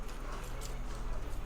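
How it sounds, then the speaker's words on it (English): Horse hooves clip-clopping in the online role-playing game Black Desert Online, a steady, fairly quiet patter running under a constant low game hum. "We've got a horse."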